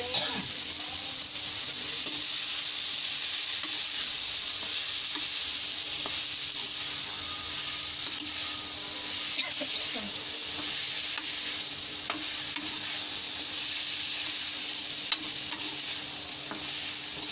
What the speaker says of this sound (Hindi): 10 मिनट तक हमने मसाले को भून लिया है, उसे कटहल डाल देंगे।